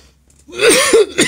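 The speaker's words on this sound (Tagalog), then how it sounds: "ako'y inuubo na at sinisipon pa" A person with a cold and a cough gives a short, close, harsh cough in two or three chesty bursts.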